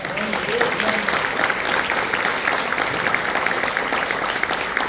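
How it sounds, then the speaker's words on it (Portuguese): A church congregation applauds during a Portuguese-language worship service, steady dense clapping filling the room throughout, with faint voices mixed underneath. "Pode aplaudir o Senhor por isso?"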